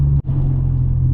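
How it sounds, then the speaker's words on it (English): Honda Odyssey RB1 with its exhaust resonator removed, a loud low droning exhaust rumble heard from inside the car, steady apart from a brief dip. "my exhaust is so ridiculously drony as it currently sits"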